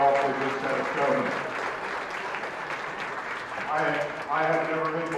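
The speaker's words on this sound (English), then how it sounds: "give them a round of applause" An audience at a county goat show claps for young goat showmen, a moderate burst of applause under an announcer's voice that keeps talking throughout.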